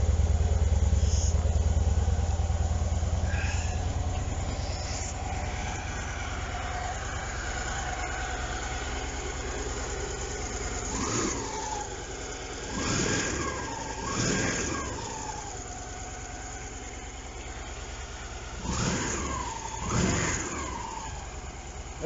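A Victory Vision Tour motorcycle with a Stage 1 exhaust idles at a low, subdued rumble, with several gentle revs swelling and falling back over the steady running engine.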